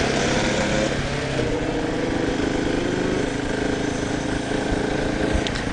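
A 150cc dirt bike ridden on sandy ground near Moab, its engine droning steadily and loudly throughout with a buzzing, continuous tone and slight swells as it is revved.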